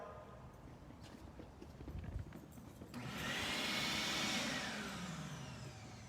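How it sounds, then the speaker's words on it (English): A vacuum cleaner switches on partway through during a dog temperament test, its broad steady whine rising loud and holding after a quieter stretch of indoor shuffling. "And then the last one is the vacuum."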